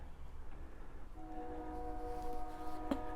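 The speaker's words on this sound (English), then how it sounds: "You can probably hear a train in the background." A train passes at a distance, a low rumble building gradually with a faint horn-like tone emerging partway through, muffled and in the background of a quiet indoor room.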